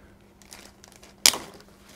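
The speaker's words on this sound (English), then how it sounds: "I'm going to come in here with an Astro Pneumatic tool that is designed to cut these." An Astro Pneumatic cutting tool bites through old hose clamps on a car's brake bleeder fittings, making one sharp, loud metallic snap after a few faint rustles and clicks.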